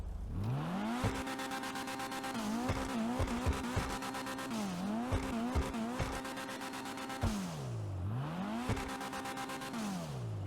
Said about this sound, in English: We're going to do a sound test and a full review on the vehicle.